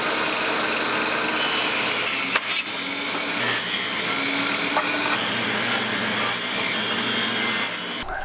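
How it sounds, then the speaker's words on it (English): A saw cuts 4x4 pallet wood into square strips, a continuous loud rasping cut with small clicks and shifts in tone throughout. "we're going to cut those again the other direction to make a 7/8 inch square"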